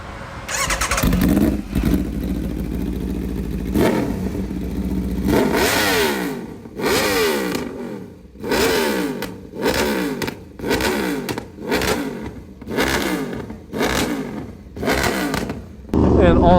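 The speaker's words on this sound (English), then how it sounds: "I might add a clip of me revving this exhaust" An Aprilia motorcycle with an aftermarket exhaust revs hard again and again, each throttle blip rising and falling in a loud, rhythmic series of roars from close by.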